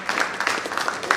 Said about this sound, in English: Let's give her a round of applause for letting us